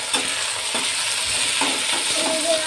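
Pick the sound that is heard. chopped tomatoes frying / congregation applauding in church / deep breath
chopped tomatoes frying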